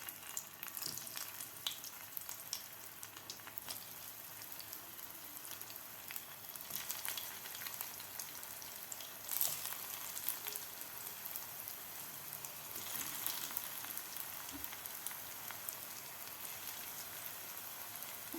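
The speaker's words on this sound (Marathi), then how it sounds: "असा गोल्डन कलर होईपर्यंत आपल्याला हे पालक वड्या आपल्याला खालची बाजू व्यवस्थित फ्राय करून घ्यायची आहेत." Cut spinach vadi pieces shallow-fry in hot oil, a faint, steady crackling sizzle with scattered small pops, continuous and without talk.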